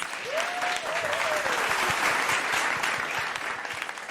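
An audience in Sedona breaks into sustained, steady applause, a broad wash of many hands clapping at moderate volume, with a brief whistle-like tone rising early on.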